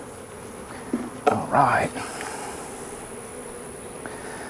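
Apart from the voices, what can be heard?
honey bees buzzing in an opened hive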